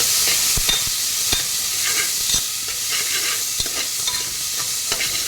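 Garlic, curry leaves and ginger sizzle steadily in a hot pan while being stirred, with soft scraping taps from the utensil over a constant frying hiss and no talking.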